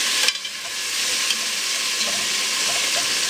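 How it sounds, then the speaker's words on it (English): Beef pieces brown in a stew pot, a loud steady sizzle that follows a short clank and scrape of stirring at the start. "Just get some color on it."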